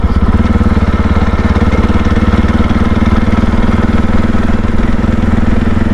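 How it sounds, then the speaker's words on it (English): A CSC RX4 450 single-cylinder motorcycle idles with a loud, close, steady thumping exhaust note that holds evenly throughout with no other sounds. "the exhaust note it's kind of nice. It's like, because it's a single cylinder, it's a big single, it's a 450."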